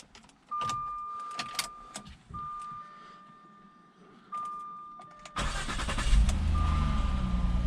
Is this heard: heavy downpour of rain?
no